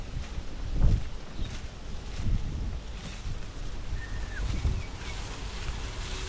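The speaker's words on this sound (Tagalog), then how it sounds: "Yung hangin." Strong typhoon wind rumbles and buffets the microphone outdoors in tall grass, rising in a few low, heavy gusts over a steady rushing background, moderately loud, with no clear speech.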